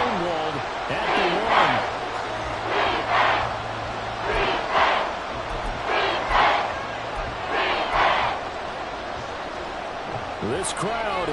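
A stadium crowd at a Chargers vs Saints NFL game roars in rhythmic, surging waves on a third-and-goal play, loud and continuous beneath a commentator talking.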